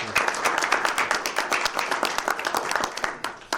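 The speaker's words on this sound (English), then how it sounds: "so a round of applause for Mary" An event audience in Dunkirk, New York gives a modest round of applause for a hospital CEO, distinct individual claps heard in a lively, uneven patter at moderate volume.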